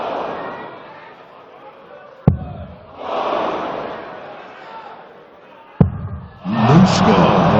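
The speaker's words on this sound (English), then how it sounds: "And the crowd already backing their man." A darts crowd at a German Darts Open match swells into cheering and shouting twice, each surge following a sharp thud, with quieter murmuring and commentary in between.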